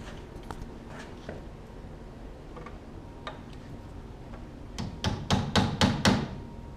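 A hammer drives a nail into the bottom of a fascia board: faint scattered taps early on, then a run of five or six loud, sharp, evenly spaced strikes close by near the end, with no talking.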